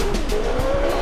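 A Formula race car in a stunt driving video game roars steadily with a sustained engine whine and tire skidding throughout, loud and continuous with no talk.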